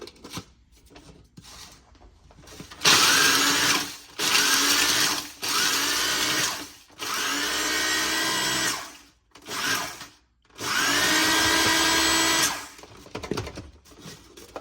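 A small food processor crushes cookies into crumbs in several loud motor bursts of one to two seconds, with short pauses and rattling between them and no talking.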